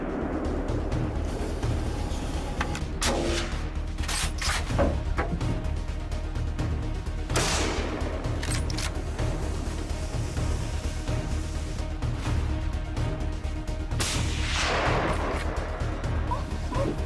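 Shotgun blasts during a feral hog hunt on farmland, several loud sharp reports spaced apart over a continuous rumbling background, with broad bursts recurring every few seconds.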